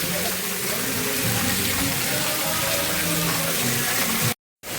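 Narmada river water splashing and pouring steadily nearby as it is sprinkled on a head, a continuous rushing wash that cuts off abruptly near the end.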